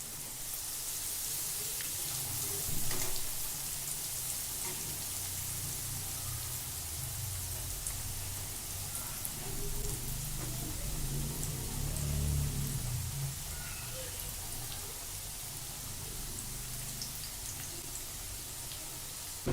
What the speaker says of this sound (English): the nuggets are ready. Let's fry it.